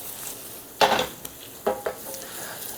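Pollock roe pressed and stirred with a spatula or spoon in a pan of oil with peperoncino: a soft sizzle beneath, broken by a few sharp scraping clanks of utensil on metal, close and wordless.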